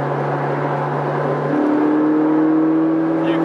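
A Ferrari 458 Speciale engine holding about 4,000 revs while cruising, heard as a steady close hum whose pitch steps up midway as the revs settle at a new level, sustained and even, with no talk.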